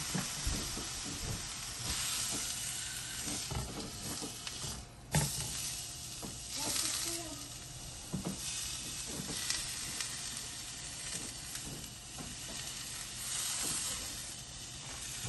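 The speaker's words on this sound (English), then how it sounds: "Just one more little sear." A sous vide pot roast is seared for a second time, giving a steady hiss and sizzle that runs throughout at moderate level, with occasional clinks and small mechanical clatters over it and no talk.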